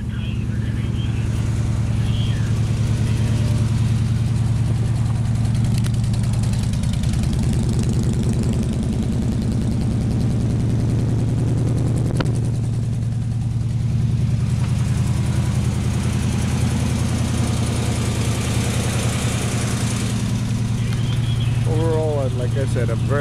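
A classic car with dual exhaust and about 67,000 miles idles steadily, its low, even engine rumble continuous and close throughout, with a faint tone and brief clicks near the end.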